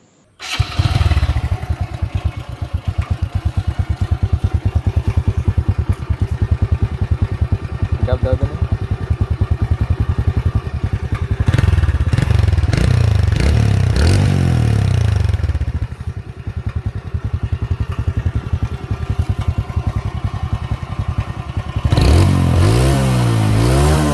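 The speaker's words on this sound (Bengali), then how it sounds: "যদি আপনাদেরকে গাড়ির ইঞ্জিনের সাউন্ড একটু শোনাই দিই" A used TVS Radeon 110cc motorcycle starts up and idles with a loud, close, steady engine thrum, blipping into short revs midway and again at the end.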